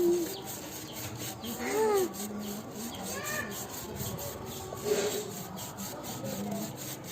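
A motorbike chain is scrubbed at home after chain cleaner goes on, with rough rhythmic rubbing up close and faint birdsong in the background.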